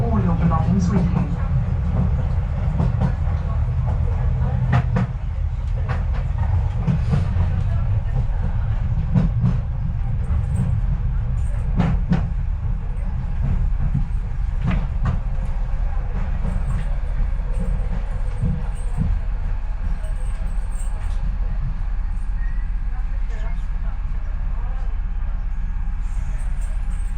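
A London DLR train running between Bank and Shadwell: a steady loud low rumble with intermittent rail clicks and squeals, heard from inside the carriage, with an onboard announcement playing over it.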